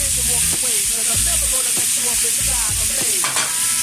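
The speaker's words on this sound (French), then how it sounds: "Je suis en train de faire colorer mes légumes." Vegetables sizzle steadily as they brown in a hot pan, with scraping stirs and clinks of a utensil at irregular moments.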